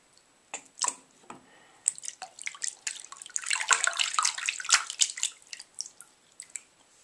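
Bubble bath is poured into running bath water while a dog is bathed at home. Close drips and splashes come in uneven bursts, swelling into a busier patch of trickling and fizzing water before thinning out again.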